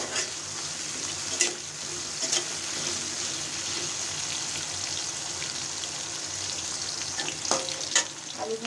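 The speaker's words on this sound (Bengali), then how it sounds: "দেখুন আলুটাকে একটু ভালোভাবে ভাজতে হবে।" Potato pieces frying in hot oil after turmeric is added, a soft continuous sizzle with occasional stirring scrapes and light ticks rising above it, heard alone and close.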